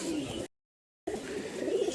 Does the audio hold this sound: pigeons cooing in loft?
yes